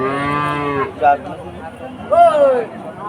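A cow at a livestock market lets out a long, loud moo close by, then a second, shorter moo, with a brief vocal sound between them.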